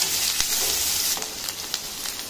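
Chopped onions sauté in a hot pan for matki usal, a steady broadband sizzle with a few soft stirring clicks, close and fairly even throughout, no voices.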